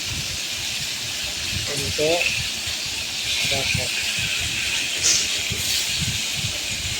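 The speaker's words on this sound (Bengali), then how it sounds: "মাছগুলো আমার মোটামুটি ওর সঙ্গে ভাজা হচ্ছে" Pieces of rohu fish fry in oil in a wok for a Bengali fish curry with papaya, making a steady hiss and sizzle throughout while someone talks over it.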